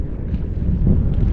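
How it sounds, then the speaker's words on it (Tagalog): Gusty wind over choppy sea rushes and buffets the microphone while kayak fishing, a low, continuous rumble swelling slightly toward the end. "umiihip rin yung hangin"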